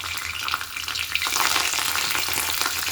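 Cumin seeds sizzle steadily in hot oil in a kadai, a dense close crackle with a few brief stirring bumps, no voices.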